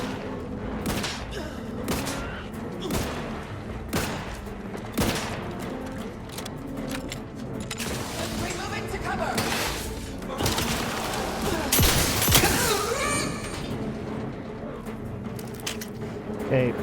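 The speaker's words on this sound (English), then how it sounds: "Frozen shotgun is awesome." A frozen shotgun in Outer Worlds 2 fires repeatedly in sharp blasts at irregular intervals amid busy combat noise, thuds and impacts, with a louder burst near the end.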